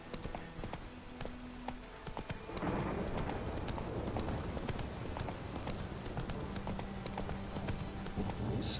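The horse Roach's hooves clip-clop in steady rhythm in The Witcher 3 video game, joined after a few seconds by a denser wash of rain and ambient sound under the hoofbeats.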